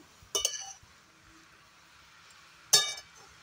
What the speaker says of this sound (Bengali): বাঁধাকপিটাকে ভালোভাবে নেড়ে দেবো একটু